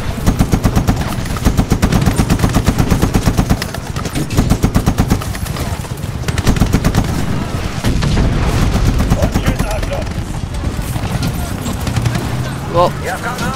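Rapid bursts of automatic gunfire and booming shots from the World War II shooter Medal of Honor, loud and sustained with dense rhythmic volleys, occasional blasts and voices talking over the battle.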